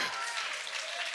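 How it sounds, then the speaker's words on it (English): Brief burst of audience applause and cheering in a church during a Sunday sermon, a steady wash of clapping at moderate level throughout. "You missed a really great opportunity to cheer. Let's try that again."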